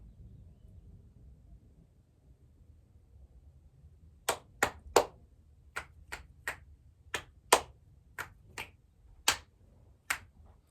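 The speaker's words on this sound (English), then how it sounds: "Those are my clap snaps, just to check in with my nervous system." A run of about a dozen sharp, separate clap snaps and finger snaps, fairly close and crisp, spaced unevenly over quiet room tone after a silent stretch.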